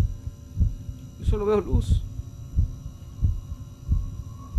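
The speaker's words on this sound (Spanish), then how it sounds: "Sigue el latido de tu corazón," A steady thumping heartbeat pulses in the video game Inside Backrooms, regular low beats under a droning hum, with a brief spoken line partway through.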